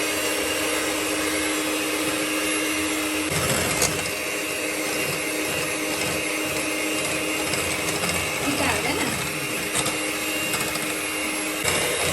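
An electric mixer beats cream for a birthday cake in a home kitchen, a constant loud whirring motor drone with a few brief clattering knocks and faint background voices.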